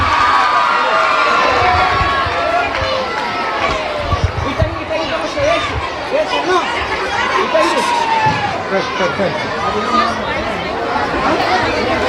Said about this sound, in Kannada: ಜೋರಾದ ಚಪ್ಪಾಳೆಯ ಮೂಲಕ ಅವರನ್ನು ಹುರಿದುಂಬಿಸಬೇಕಾಗಿ ವಿನಂತಿ